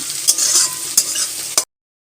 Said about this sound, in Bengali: মাংসর জন্য পেঁয়াজটা ভাজছি